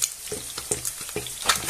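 Eggs sizzle and crackle in a hot pan, with a few rhythmic scraping or stirring bursts breaking through the steady frying.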